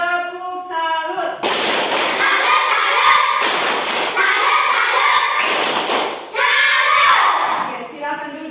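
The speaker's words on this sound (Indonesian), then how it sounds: "Oke, tepuk salut untuk kita semua. Tepuk salut." A classroom of pupils performs a rhythmic clap salute in unison, bursts of loud group clapping and thumping separated by short pauses, with children's voices chanting along.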